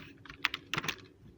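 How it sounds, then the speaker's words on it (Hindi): A short command typed on a computer keyboard while drafting in AutoCAD, a handful of crisp close keystrokes in a quick uneven cluster, quiet and alone. "तो अगेन मैं DLI टाइप करता हूँ,"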